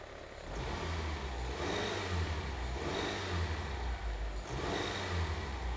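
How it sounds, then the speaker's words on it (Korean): A car gasoline engine with electronic control revs steadily as it is accelerated, a continuous close droning roar that swells and holds with slight rises and dips, no voices over it. "그래서 제가 한번 가속을 한번 해볼까요?"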